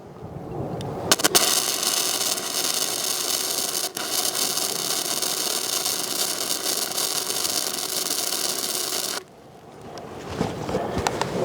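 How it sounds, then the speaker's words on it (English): A 110 VAC flux core welder lays a bead on metal, making a loud, steady crackling hiss that runs for about eight seconds and then stops abruptly, followed by quieter handling noise. "Now I'm going to turn this thing down a good bit, and I'm going to weld again right here at the end."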